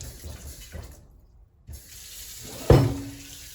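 Water from a Gaomasck kitchen sink faucet runs briefly, starting abruptly as a close splash onto the basin, with quieter handling noise before it.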